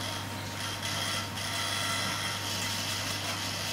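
Small servos on an RC model plane drive the elevator through its range of motion, giving a faint, steady mechanical whir with light clicking and a low constant hum, close and without talking.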